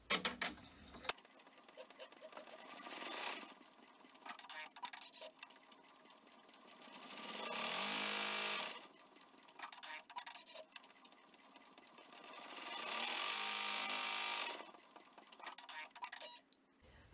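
An embroidery machine stitching an in-the-hoop project, rapid mechanical needle chatter in two long loud bursts separated by quieter ticking and clicking of the hoop moving, close up with no talking.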